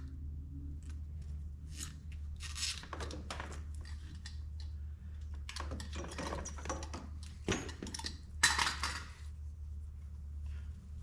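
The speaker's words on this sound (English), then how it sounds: "And then I will cut the fuel line." Ultralight airplane fuel line being cut, heard as a series of short, crisp snips and clicks in bursts over a low steady hum, close up, with no talking.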